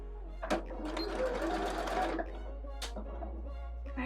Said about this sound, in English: Let's sew some dots.